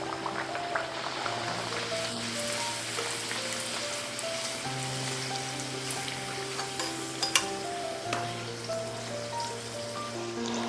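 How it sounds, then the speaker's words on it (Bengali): Peas-stuffed kachori (koraishutir kochuri) deep-frying in a cup of hot oil, a steady bubbling sizzle throughout with a constant background hum. "তেল বেশ গরম হয়ে গিয়েছে, ঠিক সেই সময় আমি দিয়ে দিচ্ছি কচুরি।"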